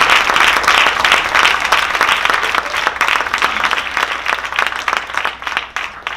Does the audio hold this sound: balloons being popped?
no